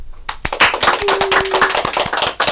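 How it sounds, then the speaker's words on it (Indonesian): Short burst of enthusiastic applause from a group, dense overlapping claps, loud and close, starting abruptly. "Berikan tepuk tangan dulu"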